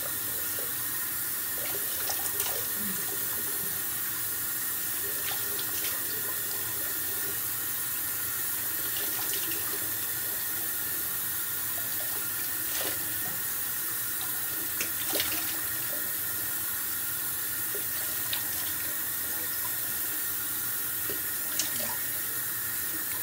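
Tap water runs steadily from a faucet into a sink while someone washes mud off their face and neck, a continuous close splashing flow with small irregular splashes and drips over about twenty seconds, no talking.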